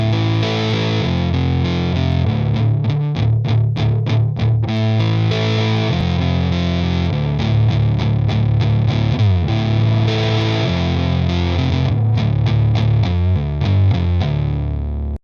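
Electric guitar through a Red Mist MKIV distortion pedal, thick saturated chords alternating with tight chugging palm-muted bursts, loud and close, played continuously without talking before cutting off.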